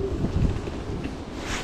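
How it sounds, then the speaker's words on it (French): Strong wind buffets the microphone while riding an Isinwheel S9MAX 500 W electric scooter into a headwind, a steady broadband roar with gusty low rumble throughout. "Bon là il y a quand même énormément de vent, hein."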